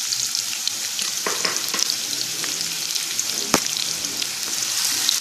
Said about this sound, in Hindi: फ्राई होना है, ब्राउन कलर आए तक फ्राई करना है हमें